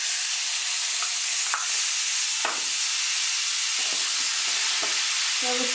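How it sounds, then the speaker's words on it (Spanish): Water poured into a hot frying pan while hake is cooking in green sauce sets off a loud, continuous sizzle and hiss, with a few brief bubbling pops and stirring sounds over it. "Echamos un pelín de agua, un poquito de agua para echar para la merluza, para echarlo y lo echamos en la sartén."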